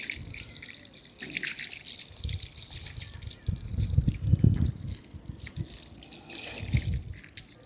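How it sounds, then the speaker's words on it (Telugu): Water poured from a pot into plant tubs in a rooftop vegetable garden, soft splashing and trickling in uneven bursts, fairly quiet with a louder gush midway. "ఒక్కొక్క టబ్బుకి ఒక్కొక్క లోట అయితే నీళ్ళు పోస్తున్నాం"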